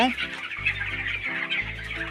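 Chickens on a poultry farm cluck in repeated, overlapping bursts, close and fairly loud, with a dense layer of many birds' chatter running throughout.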